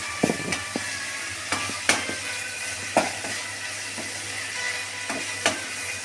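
Vegetables and raw puti fish frying slowly in a pan, a constant close sizzle with a low hum beneath and scattered sharp clinks and scrapes of stirring, no talking.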